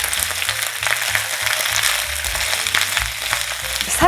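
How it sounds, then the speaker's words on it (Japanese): Spring cabbage sizzles and crackles steadily in a hot frying pan as it stir-fries, a close, continuous frying hiss with no talking. "そしたらですね、キャベツ入れて炒めます。"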